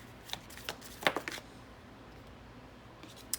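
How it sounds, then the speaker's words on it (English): A deck of tarot cards is shuffled close by, with a quick burst of riffling snaps and flutters early on, then near silence broken by one last faint card tap. "So let's pull some cards for Taurus energy for the month of September."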